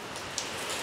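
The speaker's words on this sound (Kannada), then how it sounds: "ಇದೇ ಮಳೆ ಬಂತಲ್ಲ" Rain falls steadily on an open site beside an old house, a dense, even hiss without talking.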